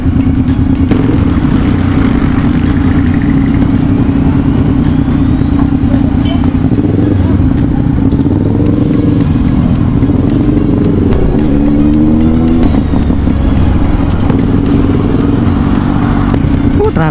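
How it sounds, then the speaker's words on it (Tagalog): Busy road traffic with motorcycles and cars, engines idling and revving close by in a steady loud wash, with one machine revving up and down midway while a person talks over the noise. "Traffic."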